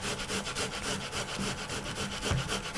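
An onion is rubbed against a kitchen grater while making vegetable soup for a baby, producing quick, rhythmic rasping strokes that are soft and close, with no talking.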